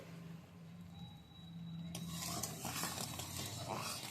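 Melted jaggery bubbling in a pan while being stirred, a low sizzling bubble that turns into louder scraping and clattering of the spoon against the pan midway through.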